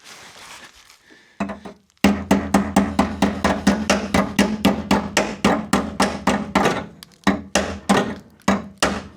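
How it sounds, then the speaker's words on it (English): Pliers tap a brake spring clip into place on a Dodge Diplomat police car's rear brakes: a rapid, steady run of about two dozen close, sharp metallic knocks, alone without speech. "If I had something to tap it with."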